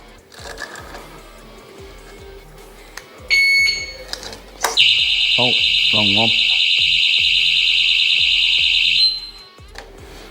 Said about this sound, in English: Turn that alarm off.